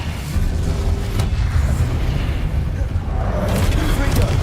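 A fiery spell effect in a wizarding action game, a sustained roaring whoosh of flame with rumbling low bursts, loud and close, mixed with the spell's cast.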